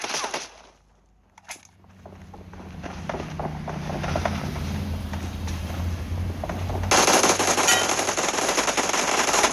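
Automatic gunfire in PUBG Mobile during an arena team deathmatch: a short pause, then rapid machine-gun bursts that build to a louder, denser volley near the end.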